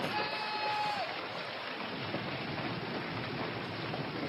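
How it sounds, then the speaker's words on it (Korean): Hailstones pour down in a played video of a hailstorm, making a dense, continuous patter like heavy rain that stays fairly faint and even throughout. "이건 다른 장면인데 우박이 막 떨어지는 장면입니다."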